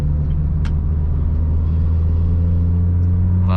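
A car cruising at about 60 km/h in third gear on a busy road gives a steady, loud low engine drone with road rumble and a continuous hum, heard from inside with no talking.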